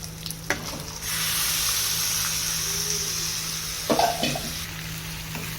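Chicken pieces for a curry drop into a hot frying pan with mint, and a loud, steady sizzle bursts up and holds, broken near the end by a few stirring knocks and scrapes.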